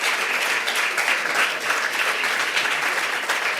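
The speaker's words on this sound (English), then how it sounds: "give them a round of applause" Sustained audience applause at a university lecture, dense steady clapping from a crowd that fills the whole stretch at even loudness, with no talk over it.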